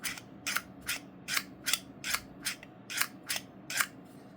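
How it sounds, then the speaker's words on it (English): The mechanism of a black PunCube aluminum-alloy fidget mech wallet, model 8807, clicks crisply about ten times in a steady rhythm, each click sharp and close against a quiet background. "It's got a very satisfying click on it."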